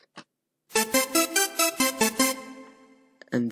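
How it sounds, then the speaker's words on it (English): Bright synthwave arpeggio from an LMMS native instrument preset: a quick, evenly spaced sequence of pulsing synth notes with a ringing tail, preceded by a brief blip and followed by a new sustained tone near the end. "And I use these four presets for the arpeggios because I love it."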